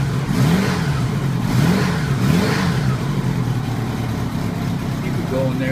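A 1984 Honda Goldwing Aspencade 1200 motorcycle engine idles close and loud while warming up with the choke partly on, a steady low drone with a slight rise and fall in pitch.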